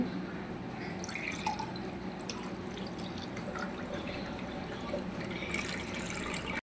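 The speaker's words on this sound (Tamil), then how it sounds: "இதையும் ஒரு கிளாஸில் ஊற்றிக்கலாம்." Chilled rose milk pours into a glass in a continuous, soft liquid stream with light trickling and splashing, steady and close throughout.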